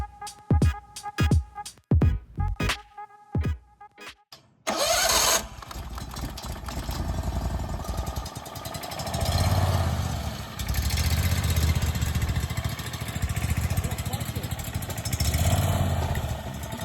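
A gas engine on a bolt-together go-kart cranks with several sharp starter bursts, then fires and runs loud and close, settling into a rough idle with repeated swelling revs.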